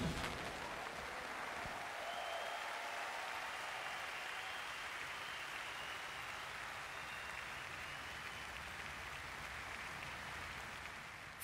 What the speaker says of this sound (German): Frenetischen Applaus für die jungen Musikerinnen und Musiker